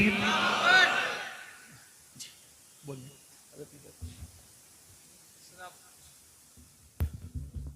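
A crowd at an Islamic religious gathering shouts a loud, brief collective response to the Naara-e-Takbeer call. The burst comes right at the start, then the room goes quiet apart from scattered faint voices and small noises.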